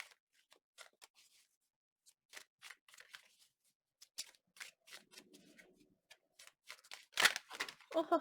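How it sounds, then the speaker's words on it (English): Tarot cards are shuffled by hand in a quiet room: a scattered run of faint flicks and riffles that grows busier, with a louder flurry near the end as the cards fly out. "The cards went flying."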